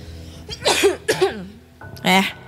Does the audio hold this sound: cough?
yes